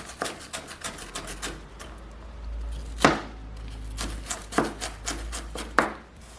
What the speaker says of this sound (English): And just start dicing.